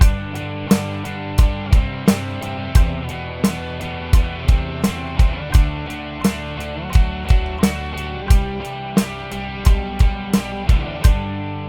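A drum kit plays a steady two-bar loop of punchy bass drum and snare hits with a shimmering cymbal wash underneath, repeating evenly, close and loud.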